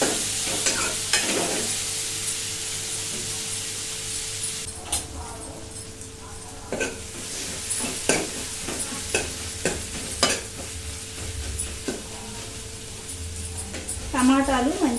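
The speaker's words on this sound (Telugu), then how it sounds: "టమాటా ముక్కలు కాస్త సాఫ్ట్ అయ్యేంత వరకు మగ్గించుకోవాలి." Tomato pieces fry in a pan, giving a steady close sizzle broken by repeated stirring scrapes and light clinks of a spoon, with some talk over it.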